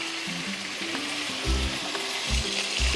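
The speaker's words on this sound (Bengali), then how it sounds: "এই পিসটাও ভেজে নিলাম" Steady hissing sizzle of fish pieces frying in hot oil, loud and close, with light clinks and scrapes of a utensil now and then.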